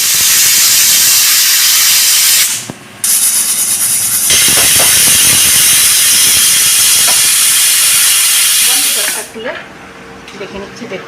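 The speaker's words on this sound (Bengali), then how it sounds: "কুকারটা আটকে দিচ্ছি দুটো সিটি উঠিয়ে নেব তাহলেই হয়ে যাবে" A pressure cooker full of prawns and pointed gourd vents steam in a loud, steady hiss that cuts off briefly near the start, resumes, then stops, leaving quieter kitchen sounds.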